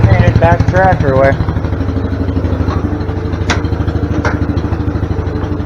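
A 110 garden tractor engine chugs close by at a steady, even beat through the whole stretch. Someone talks over it briefly at the start.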